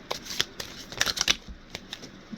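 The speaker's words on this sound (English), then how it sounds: "Let's draw a couple of these abundance cards." Oracle abundance cards are shuffled in quick bursts of crisp riffling snaps and flicks, with brief pauses between them, close by and without talk.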